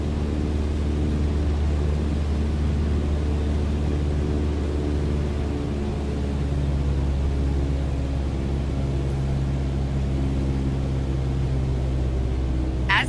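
Propeller plane engine in Microsoft Flight Simulator during a training descent with RPMs reduced to 1800: a steady, loud low drone with a constant hum, unbroken throughout, no talk.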